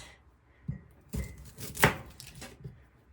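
Leftover onion being chopped on a board, several separate knife strikes at close range spread over a few seconds, with one heavier central thud and quieter taps around it.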